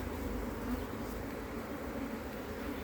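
Bees buzzing during a transfer from an old hive into a new auto flow brood box, a dense steady hum, close and continuous for the whole moment.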